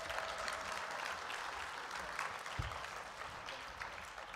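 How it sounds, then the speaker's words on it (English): Sustained applause from a conference audience at Code4Lib 2018, steady and dense clapping for the whole stretch with no voices over it. "A round of applause for Index Data."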